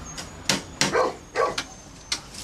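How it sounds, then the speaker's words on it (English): A dog barks several times in short sharp bursts, fairly close and loud, in a British police drama scene with a tense standoff. "I hope that dog's been well fed."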